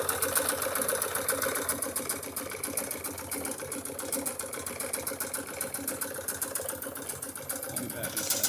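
A Wilesco D32 live steam engine, a sizeable model, runs with a steady rapid mechanical chatter and rhythmic ticking throughout, fairly close and even in level.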